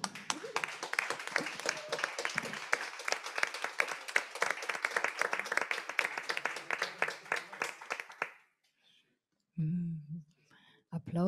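Audience applause after a cabaret song at a small venue, dense sustained clapping for about eight seconds that stops abruptly, followed by silence and brief low talk.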